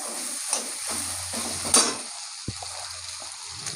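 Spices are added to potatoes and figs already frying in oil, a continuous sizzle with occasional spoon clinks and scrapes against the pan, close and fairly loud.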